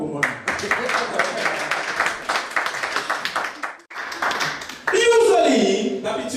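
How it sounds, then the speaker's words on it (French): Church congregation clapping and cheering during a worship service, a dense burst of applause that dips briefly and then swells louder near the end, with voices mixed in. "Donc acclamez pour moi."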